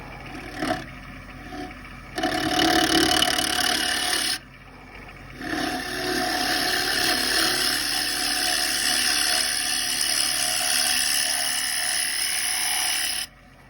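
Carbide cutters turning a piece of old wood flooring on a wood lathe make a steady, close, hissing rasp in long sustained passes, breaking off briefly near the start and around the four-second mark before running on without talk.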